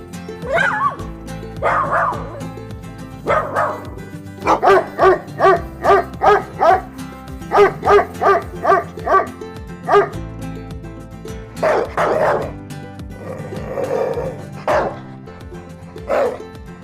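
A dog barks in a rapid run of loud, close yips and woofs, with a few whimpering calls mixed in, set on a farm.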